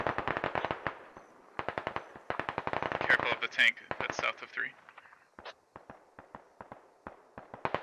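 Rapid cracks of small-arms gunfire in the tactical shooter Squad, sharp repeated shots in quick strings, some nearer and louder, others distant, with voices talking over the middle.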